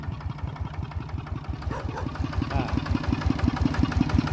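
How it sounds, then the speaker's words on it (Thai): A ZT 155 engine of about 15.5 horsepower, used to run a water pump, idles beside a road with a steady rapid low thumping that grows slightly louder, and faint other sounds are mixed in. "เครื่องนี้เขาเอาไว้สูบน้ำนะครับเอาไว้สูบน้ำ"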